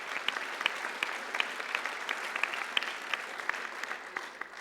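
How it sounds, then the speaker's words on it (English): Steady applause from the audience at a farmers' Brexit event, many hands clapping with some individual claps standing out, continuous for under five seconds. "the round of applause is also an acknowledgement of our panellists"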